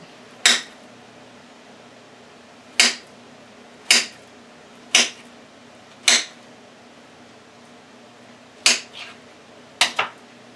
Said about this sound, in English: So we're just going to slice it.